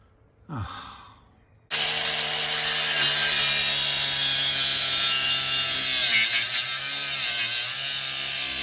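A cutting tool grinds loudly and continuously through a bent wheel stud on a car rear axle after a short sigh-like breath, the harsh cutting noise filling the rest of the clip.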